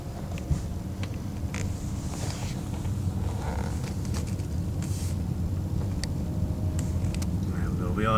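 BMW E39 5 Series car driving, steady low engine and road rumble filling the interior throughout, with faint wind noise and small rattles on top.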